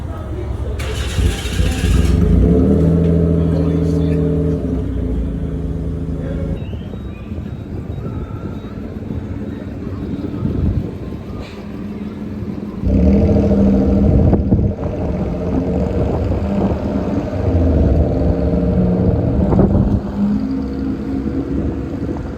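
A Suzuki Wagon R engine with a custom exhaust fires up for its first start, then loud revving and idling bursts come through the exhaust, with a dip between two surges and a voice speaking briefly.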